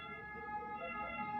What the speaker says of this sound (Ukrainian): А, це знову швидка допомога.